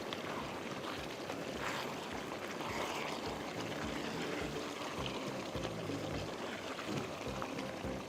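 Dhaba-style mixed vegetables are stirred in a pan, giving a steady, close wash of sizzling and scraping with soft rhythmic stirring bumps throughout, no voices.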